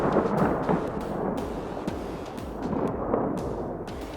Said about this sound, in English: a severe thunderstorm suddenly rolled in, and lightning and thunder started hitting close